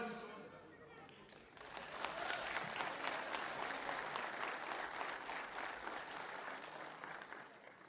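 A large outdoor political rally crowd breaks into loud, sustained applause after a short stretch of speech, the dense clapping continuing steadily without letup.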